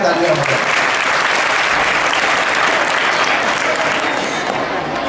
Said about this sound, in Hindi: उनके लिए भी बहुत जोरदार तालियां हो जाए।